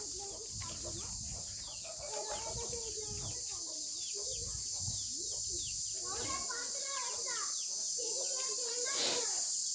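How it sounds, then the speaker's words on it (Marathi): Small chicken chicks peep and cheep in quick, high chirps throughout at Machal near Lanja, with people talking nearby and a steady background hiss. "कोंबडीची पिल्लं आहेत."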